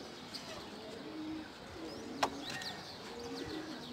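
A racing pigeon arrives at its loft and gives soft, low coos, faint against a steady outdoor hiss, with one sharp click partway through.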